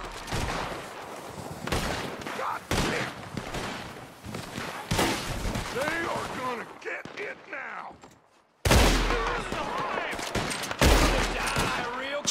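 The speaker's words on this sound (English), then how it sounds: "Shoot him in the arm if I can't get a headshot." Repeated gunfire from a Red Dead Redemption 2 gunfight, sharp shots bursting irregularly across a noisy scene with talk, a brief near-silent gap, then loud shooting resuming.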